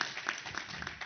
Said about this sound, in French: Je demande d'applaudir Isabelle pour son témoignage.